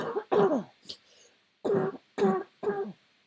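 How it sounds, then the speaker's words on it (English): A series of five or six sharp coughs and throat clears, close and loud, separated by brief pauses. "Stop coughing."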